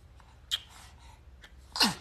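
A single sharp sneeze bursts out near the end, loud and close, after a few faint soft noises in an otherwise quiet room.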